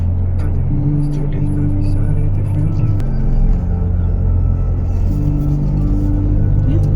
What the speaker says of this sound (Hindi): यहाँ पे थोड़ा सा ट्रैफिक सा लग रहा है।